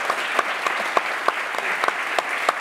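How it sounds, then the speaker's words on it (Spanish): An audience applauds the Atapuerca research team at a round-table science talk, a steady mid-level patter of many hands with a few sharper individual claps standing out. "un aplauso para el equipo de Atapuerca"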